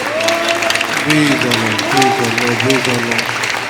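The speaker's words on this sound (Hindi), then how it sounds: "सब परमेश्वर की महिमा के लिए ताली बजाएं, उसकी समर्थ के लिए ताली रिलीज करें, जोर से रिलीज करें।" A congregation claps loudly during a Sunday worship service, a dense, continuous patter of many hands under a prominent voice.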